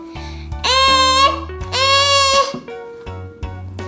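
A toy goat gives two loud, wavering synthesized bleats over a plucky electronic tune, close and clear, with soft clicks afterward.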